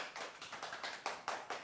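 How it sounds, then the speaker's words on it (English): A small group clapping faintly during a live hobby-making broadcast, a quick patter of distinct claps with a few sharper ones near the end, with no voices. "Round of applause."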